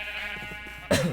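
A Minecraft sheep lets out a loud, close bleat near the end, after a low, soft background hum.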